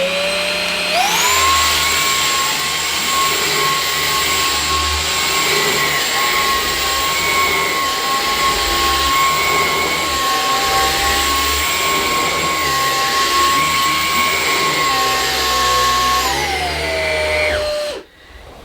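A Henry Quick Pet cordless vacuum cleaner whirs up to a loud, steady high-pitched roar on boost over carpet, with small shifts in pitch as it is pushed, then winds down and cuts off near the end.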